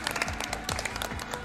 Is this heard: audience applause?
yes